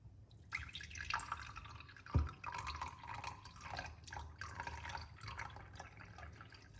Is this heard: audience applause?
no